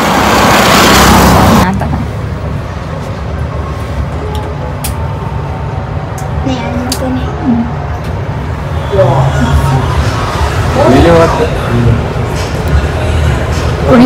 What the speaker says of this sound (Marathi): आता आम्ही सगळे रिक्षाने चाललोय मस्त.